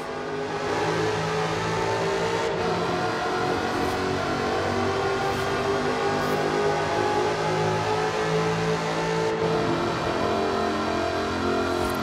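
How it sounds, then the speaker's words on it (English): Supercharged 5-litre V8 engine of an aluminium-bodied sports car in Forza Horizon 4, a steady loud mechanical drone running continuously throughout with no speech. "Powered by a 5-litre V8 supercharged engine, with a fully aluminium body, it's blisteringly fast"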